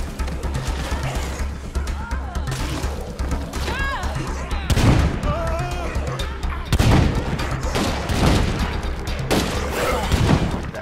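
Gunfire in State of Decay 2 comes as bursts of booming shots and thuds over a continuous loud game ambience, with a player's voice talking at times.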